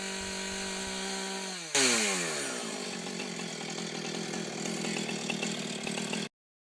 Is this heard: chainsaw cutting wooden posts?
yes